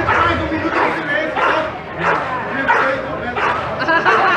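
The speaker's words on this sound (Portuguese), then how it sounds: "Vou lançar o cachorro. Se prepara." A municipal guard's police dog barks repeatedly in loud, rhythmic bursts during a public canine unit demonstration at a railway station, with a crowd and talking around it.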